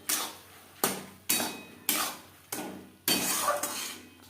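Lentils being fried and stirred in a pan while cooking masoor dal with papaya, heard as a series of sharp scraping and clattering strokes of a spoon against the pan, about six in a row, each fading into a hissing sizzle.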